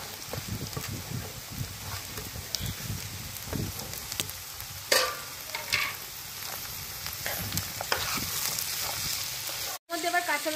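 Potato and onion frying in a pan as peas, capsicum, beans and paneer are added, a steady close sizzle with stirring scrapes and a sharp burst midway, a voice speaking over it.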